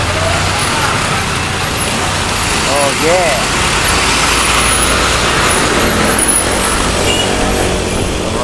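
Road traffic in the Philippines gives off a loud, continuous roar of passing cars, buses and trucks, with a brief horn-like tone rising above the rumble while someone speaks briefly over it.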